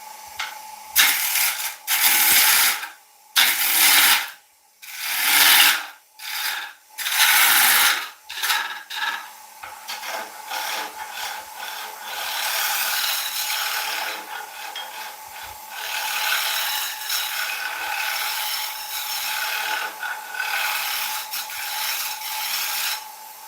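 A small wooden bowl spins on a wood lathe while a tool cuts it, giving loud bursts of scraping and rasping with short gaps, which then settle into a steady, continuous hiss of cutting.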